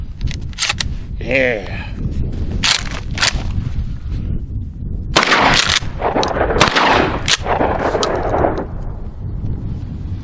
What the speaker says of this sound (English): let's load her up and see how my new shotgun shoots